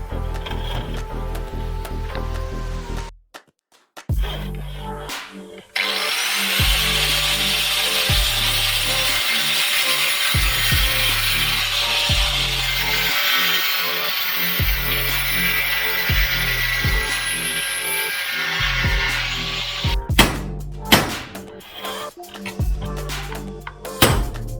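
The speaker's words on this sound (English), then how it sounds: "So I'll get to grinding them off and hacking them off and doing whatever I need to without breaking it" A power tool grinds the rivet heads off a Daihatsu Move clutch plate in long, loud passes, with a steady rhythmic scraping under the whine, briefly stopping and restarting near the start and trailing off at the end.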